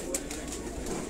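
A Black Cobra breed pigeon coos softly at a breeder's loft in Sialkot, a brief low murmuring call with a faint sharper chirp, close by against steady background noise.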